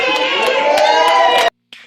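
A wrestling crowd at a GIPW independent show cheers and shouts loudly for about a second and a half, with whoops and rhythmic peaks, before cutting off abruptly with a brief faint trailing sound.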